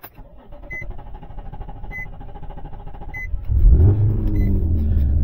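A 350 truck with an oil-soaked faulty sensor starts up: a few electronic dashboard chimes sound over a low hum, then the engine catches with a loud, deep rumble that settles into a steady, throaty idle, close by.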